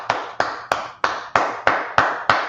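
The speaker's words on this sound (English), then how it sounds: "Let's clap it up for that." Sharp hand claps ring out in a steady rhythm of eight beats, close and loud, from a brotherhood class gathering, each clap decaying quickly before the next.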